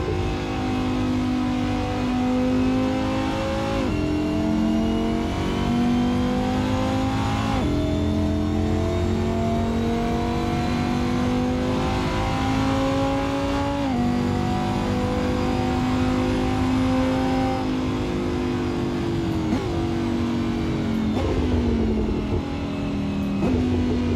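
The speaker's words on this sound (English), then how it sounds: "I like the exhaust, the crackling pops from the exhaust." Lamborghini race car in the Assetto Corsa driving game, its loud engine holding steady and climbing through repeated gear shifts over roughly 24 seconds, with steady droning exhaust and no talking.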